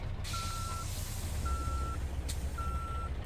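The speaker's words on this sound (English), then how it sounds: "Disconnecting the trailer. Backing up." Truck reversing alarm in Euro Truck Simulator 2, three evenly spaced steady beeps over a low diesel engine idle rumble, with a brief hiss of air in between.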